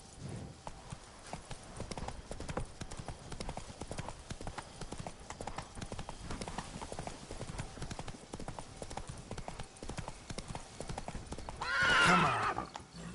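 Horse galloping with steady, continuous hoofbeats in the Witcher 3 Blood and Wine video game, with a loud horse whinny near the end.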